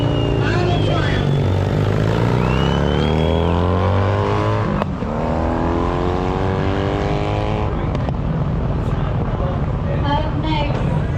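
Triumph motorcycle ridden by a Los Angeles privateer in the Baja 1000 race, its engine droning loudly and steadily with rising and falling pitch, passing close by under an announcer's voice.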